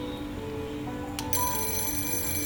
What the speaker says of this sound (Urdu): اتنے میں اچانک فون کی گھنٹی بجی